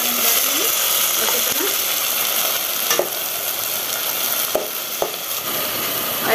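Ground onion paste goes into a hot frying pan for arhar dal, giving a steady, close sizzle with occasional stirring clinks and scrapes while someone talks over it.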